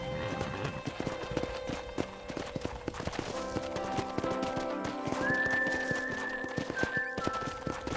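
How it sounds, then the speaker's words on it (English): Horse hooves clip-clop in a steady galloping rhythm in the Red Dead Redemption video game, with a neigh partway through, set over ambient game music and background sound. "let's see if you can still ride a horse."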